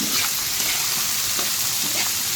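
Okra frying in a pan, giving off a loud, continuous hiss and crackle that stays close and even from start to finish, with no voices over it.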